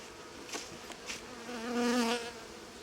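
Honeybees buzz close by at a beehive of fed colonies, a soft steady drone that swells louder for a moment before easing off.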